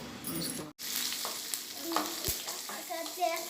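Mustard seeds, garlic, chilies and curry leaves fry in hot oil for a coconut chutney tempering, making a steady close sizzle with crackles and spoon stirring, and no talk.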